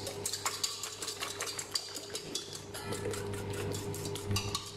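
A whisk beats eggs, sugar and honey in a bowl over a boiling water bath, giving a fast, continuous train of metallic clinks and scrapes, close and fairly loud, without speech.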